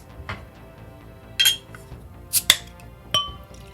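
Skalrock Nordic Pale Ale, a kveik beer, being opened and poured into a glass: a few sharp clinks and fizzy bursts of glass contact and liquid, spaced out over a quiet background with no talking.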